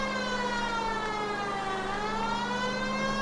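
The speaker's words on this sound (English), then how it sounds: "Oh wait, I forgot about the siren. It's the most important part." A police car siren wails loud and continuous with a steady tone, close by and alone, sweeping slightly in pitch.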